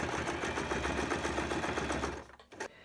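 A sewing machine back stitches the end of a cloth mask with a filter pocket, whirring steadily and rhythmically for about two seconds, then pausing and giving a short final burst before stopping.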